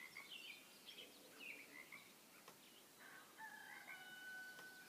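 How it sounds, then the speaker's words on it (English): Roosters crow repeatedly outdoors on a quiet morning on Salt Spring Island, British Columbia, moderately distant, with other birds and frogs calling faintly in the background. "Hear the rooster?"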